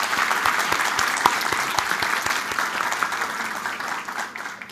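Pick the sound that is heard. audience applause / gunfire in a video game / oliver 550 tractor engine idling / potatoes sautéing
audience applause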